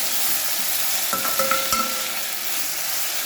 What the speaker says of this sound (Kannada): ಈರುಳ್ಳಿ ಟೊಮೆಟೊವನ್ನು ಸಹ ಒಗ್ಗರಣೆಯಲ್ಲಿ ಚೆನ್ನಾಗಿ ಹುರ್ಕೊಳ್ಳುವ